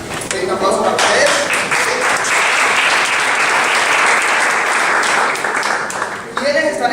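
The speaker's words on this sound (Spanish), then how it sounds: "Un aplauso para ustedes." A room of people applauds new entrepreneurs at a business meeting, with dense, loud, steady clapping that runs nearly seven seconds before tapering off at the end.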